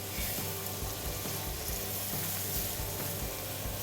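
Flat iron steak searing in a skillet with garlic butter and chopped cilantro, giving a steady, dense sizzle and frying hiss that runs unbroken throughout, close and fairly loud, with no talking.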